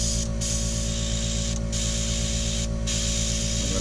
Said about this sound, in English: you're just going to spray it until it sprays clear